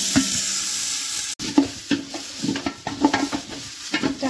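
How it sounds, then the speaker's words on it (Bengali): Gobindobhog rice frying in ghee in a large pot, with steady close sizzling broken by repeated scraping stirs at a loose, regular rhythm and a sharp clack partway through. "হালকা একটু ভেজে নেব।"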